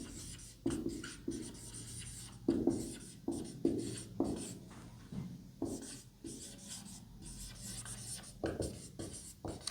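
Chalk or marker writing on a board during a math proof about irrational numbers, giving repeated short scratchy strokes in uneven bursts, close and fairly quiet, with no talking.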